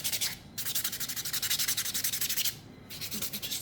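Gel dip manicure nails being buffed with a nail buffer: close, rapid rhythmic scratchy rubbing strokes in steady bursts, pausing briefly twice, with no talking.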